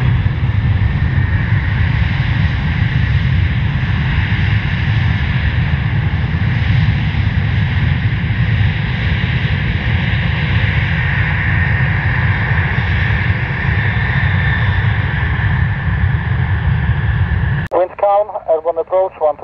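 A steady, loud, broadband roar from an airplane taking off on runway 25 at Krakow airport runs throughout, overlaid with crackly air-traffic-control radio talk that ends in a short burst.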